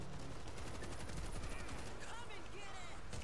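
Rapid gunfire bursts from the zombie shooter game World War Z, a dense, continuous rattle of shots layered with game effects and a voice talking over it throughout.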